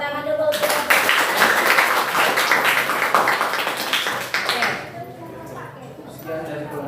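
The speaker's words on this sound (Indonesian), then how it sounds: "silakan diberikan tepuk tangan dulu" Classroom students clap together after a group presentation, a burst of dense clapping that fades out near the end, followed by quieter room sound and a bit of talk.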